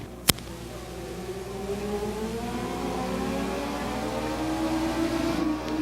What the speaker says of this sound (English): The green flag is out. Here comes our 4 competitors. And we got a race here. Another 10-lap heat race of Legends cars.